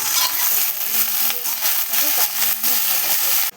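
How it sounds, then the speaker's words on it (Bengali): Okra and potatoes fry in a pan with a bright, continuous sizzle while a person talks over it, the hiss cutting off abruptly just before the end. "আর এই দিকটায় ভেন্ডি আলু ভাজা করছি"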